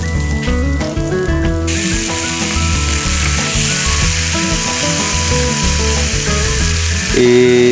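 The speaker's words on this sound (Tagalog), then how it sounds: "Sauté lang natin yung mga sangkap hanggang mag-brown." Ingredients sautéing in hot oil in a pan until brown, a loud steady sizzle close up with a tuneful music bed running underneath and no talking.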